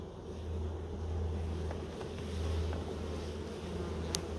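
Honey bees hum in a dense, steady drone as they are brushed off a hive frame during a honey harvest outdoors, close and continuous with a few faint knocks and no speech.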